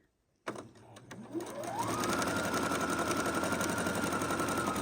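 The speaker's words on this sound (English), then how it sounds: "we're just going to do a straight stitch right down the row" Sewing machine running a straight stitch down a row of quilt blocks, starting after a short silence, then revving up into a loud, steady close mechanical whir that holds to the end.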